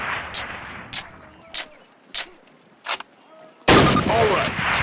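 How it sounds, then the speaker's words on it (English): Springfield rifle shots fired at a target in Call of Duty, four sharp, separate cracks spaced about a second apart, then a louder, longer burst of gunfire at the end, with faint game voices underneath. "Now fire 2 rounds at your target while aiming down your sight."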